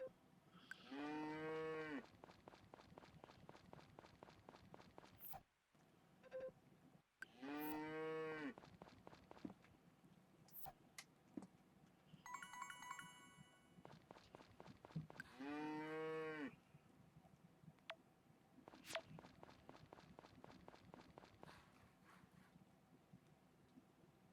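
Cows moo in the Story of Seasons: Friends of Mineral Town farming game, three long, loud calls spaced a few seconds apart, with faint clicks and tones in between.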